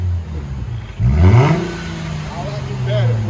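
A 2008 Mercedes C300 4MATIC with dual exhaust and a muffler delete blips its engine once in a short, throaty rev that rises and settles back to a steady idle, close by, while people talk around it.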